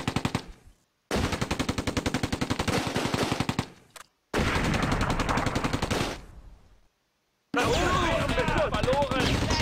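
Heavy gunfire in a World War II video game: rapid machine-gun bursts rattle in long runs with short silent gaps, then dense mixed firing and blasts, loud and close, with voices mixed in.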